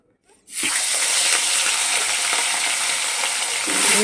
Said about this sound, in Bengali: প্রথমে তেলটা গরম হয়ে গেছে এবার মাছগুলোকে ভেজে নেব